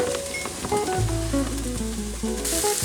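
Peppers and onions sizzle steadily in a hot pan for a farmhouse omelet, a close, continuous frying hiss with faint scraping of stirring and no talk.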